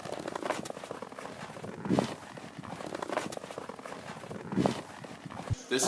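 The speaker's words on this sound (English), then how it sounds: "This is the sound of walking on snow." Footsteps pressing into snow, a slow, even series of soft crunches with a few heavier, deeper compressions, close by and with no other sound.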